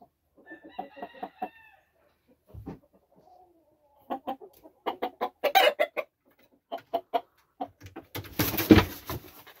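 Game chickens cluck in irregular bursts on a spring farm while a rooster lets out crowing calls, close and fairly loud, with short quiet gaps between the bursts and a scuffling rush at the end.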